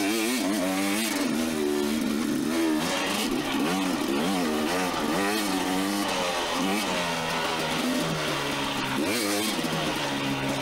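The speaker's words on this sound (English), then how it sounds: "enjoy the sound of this FMF exhausted two-stroke" A two-stroke dirt bike with an FMF exhaust rides trails, its loud, raspy engine rising and falling continuously through throttle changes and gear shifts, close up with no talking.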